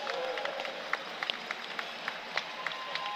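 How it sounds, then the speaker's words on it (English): A college crowd at a men's basketball bronze medal championship game applauds in a standing ovation: sustained clapping and cheering with sharp claps standing out from the steady roar. "another standing ovation from the Saints crowd"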